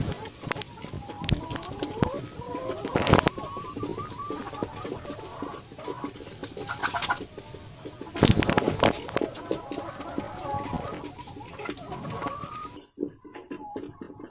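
Chickens sick with a disease spreading through every pen cluck and call in a coop, a busy mix of scattered clucks and sharp bursts, with a person talking over them throughout.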